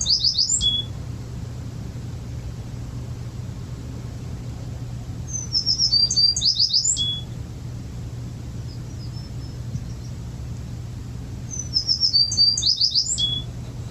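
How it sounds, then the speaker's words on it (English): A tree sparrow sings three short bursts of high, rapid twittering notes spaced several seconds apart, standing out over a steady low rumble of background noise. "And we have a tree sparrow song here."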